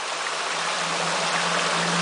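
Spring water at Stowe, Vermont rushes and splashes in a steady, close, fairly loud broadband wash with no pauses and no voices.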